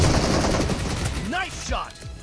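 Rapid gunfire in the mobile shooter BGMI during a team match, loud and close, crackling bursts mixed with other game effects in a short, busy moment.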